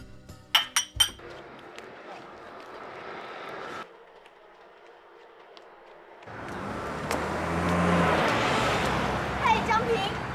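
Drinking glasses clink together in a toast at a celebratory meal, a quick cluster of three or four bright chimes at the start. A quieter stretch and then a louder, busy background follow.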